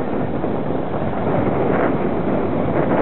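Steady, roaring wind gusts buffet a sailboat on a lake near Aix-les-Bains, a continuous loud rush of wind noise with water wash beneath, no voices.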